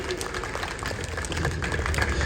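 Audience applause and scattered clapping fill a party workers' conference hall in Delhi, a dense steady patter that swells slightly toward the end, with a voice faintly underneath.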